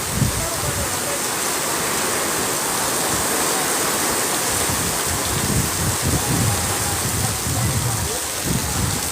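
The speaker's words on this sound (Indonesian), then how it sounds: "Anginnya kencang, hujannya badai teman-teman." Heavy rainstorm with strong wind outdoors at Park Serpong, a dense loud roar of pouring rain with gusty rumbling and occasional low thuds throughout.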